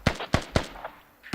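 Gunfire in a competitive video game squad match: three sharp, loud shots in quick succession, then a fainter pop and a final distant crack.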